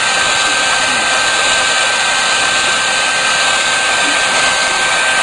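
A heat gun blows steadily and loudly as it shrinks heat-shrink tubing over wire, a constant hissing, fan-like roar with a faint high whine, close to the mic and with no talking.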